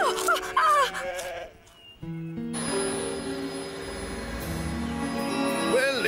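Several cartoon sheep bleat close by, wavering calls overlapping at the start and returning near the end over a steady background hum.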